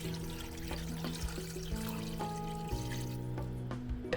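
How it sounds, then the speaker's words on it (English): Water poured over meat in a pot for a borscht broth, a steady trickling pour with clinking and a ringing metallic tone from the pot, moderately quiet and without speech. "Place the meat in a pot, cover with the water and bring it to a boil over medium heat."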